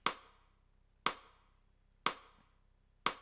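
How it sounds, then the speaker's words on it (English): A sampled rim shot clicks four times at an even, roughly once-per-second pace, each a sharp, bright crack with a quick decay, fairly quiet and alone. "A rim shot."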